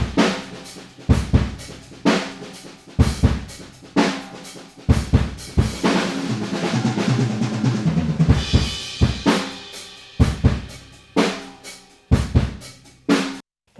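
Rock drum kit captured by a room microphone: punchy kick and snare hits with roomy ambience, a busier crash-heavy fill in the middle, then a return to the steady groove before an abrupt stop.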